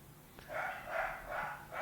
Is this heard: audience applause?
no